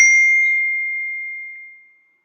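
A single phone text message notification rings out as a clean, bright ding that decays smoothly over about two seconds, alone and close with no voices.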